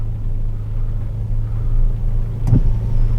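A 2023 Geely Coolray steering itself into a parking space, with a steady low engine hum and road rumble throughout and a brief knock or thump near the end.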